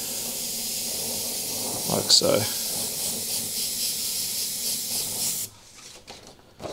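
Airbrush sprays paint over a paper mask laid near a starburst line, a steady close hiss running several seconds before cutting off abruptly, with a voice speaking briefly.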